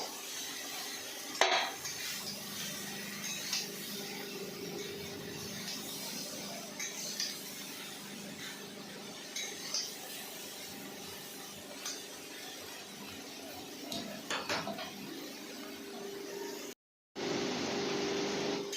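A pan of jackfruit and potatoes is stirred while they brown, with a low continuous sizzle, scattered metal clinks and scrapes of the spatula, and a brief dropout near the end.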